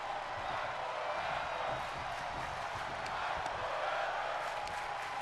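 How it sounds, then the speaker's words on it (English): A virtual arena crowd in the WWE 2K22 wrestling video game, heard during a match. The steady, dense roar of voices keeps going without a break, loud and distant-sounding, with faint rises that suggest chanting. "Fight forever chants between these two men"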